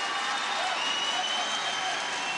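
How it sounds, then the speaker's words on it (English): A crowd at a CWFC Fight Night MMA bout in Jordan cheers and roars in a loud, continuous wash of noise that holds steady throughout without letting up. "And the crowd here in Jordan going absolutely wild."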